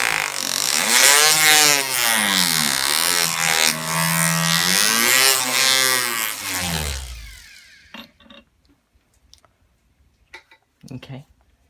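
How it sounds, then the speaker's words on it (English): A jeweller's flex shaft with a split mandrel sands a handmade 5 mm flat band ring with 320 grit paper, making a loud, rising and falling whirring drone that cuts off, followed by a few faint taps and clicks. "I'm just going to be using a flex shaft with a split mandrel"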